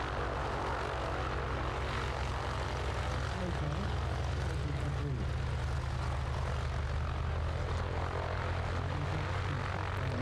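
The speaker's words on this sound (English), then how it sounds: "Dave and Brian there just taxiing those beautiful aircraft out" Propeller aircraft used for a wingwalking display taxi out at an air show, a steady, loud droning engine rumble filling the whole stretch with people talking over it.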